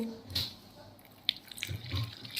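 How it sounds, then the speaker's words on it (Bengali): Water trickles gently into a spiced batter of pointed gourd and chili powder in a home kitchen, a faint, close pour with a few small splashes and clinks. "এবার জল দিয়ে দেব"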